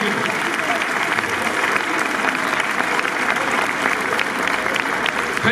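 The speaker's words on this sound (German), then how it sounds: "Vielleicht habt ihr noch mal einen kleinen Applaus." A crowd applauds outdoors at a public event, a dense, loud, steady wash of many hands clapping that holds for several seconds, with a faint murmur of voices underneath.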